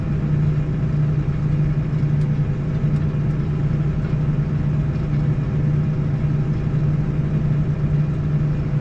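A tractor engine holding a steady 1200 RPM while drilling a field, a loud unbroken low hum with a constant droning tone and no change in pace, heard close and alone without any talk.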